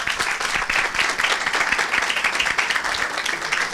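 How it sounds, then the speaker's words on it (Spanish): Audience at a radio and podcast session gives dense, steady applause to welcome a speaker, with a continuous even patter of many hands clapping. "Entonces vamos a darle con un fuerte aplauso la bienvenida a Bruno Ortiz Viso."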